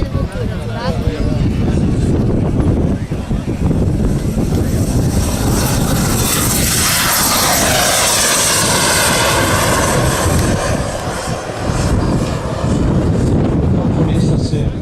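A model airplane's engine roars at full power during a model aviation show, a loud sustained drone mixed with wind buffeting, with a voice talking over it.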